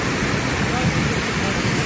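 Water gushing through a breached canal bank, flooding the surrounding area, makes a loud, steady, broadband rush that fills the whole stretch without pause.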